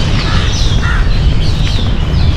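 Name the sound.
crows cawing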